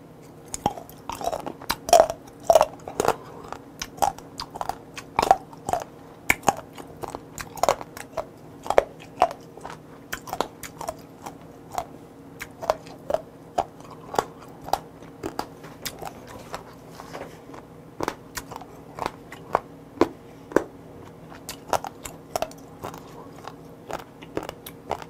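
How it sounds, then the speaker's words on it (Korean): Close, wet chewing and crunching of sea squirt tips (meongge kkodari) at a Korean home omakase-style mukbang, steady bites repeating throughout with no talk. "멍게꼬다리는 씹으시기만 하고 삼키지 마세요"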